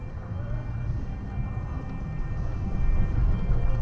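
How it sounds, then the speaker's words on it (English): A train rumbles past close by on the street, a low steady roar that builds louder toward the end, heard from inside a car with no talking. "I think the train just ran that light."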